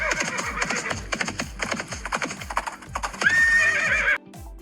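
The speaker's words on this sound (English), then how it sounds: "Did you guess horse?" A horse whinnies loudly over a steady clip-clop of hooves, the rhythmic hoofbeats running throughout and a rising, wavering neigh near the end before the sound cuts off.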